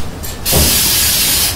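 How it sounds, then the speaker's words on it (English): A Flex Seal aerosol spray can lets out a short test puff, then a loud, steady hiss of spraying that runs over a second, close by. "Spray it."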